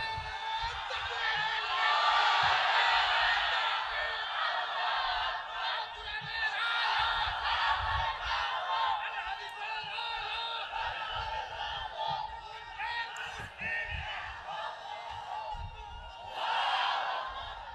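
A large crowd at a religious sermon gathering roars takbir together, loud surging group shouts rising and falling in waves, with a stronger burst near the end.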